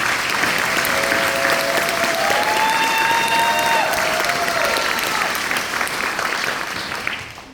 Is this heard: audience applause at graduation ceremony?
yes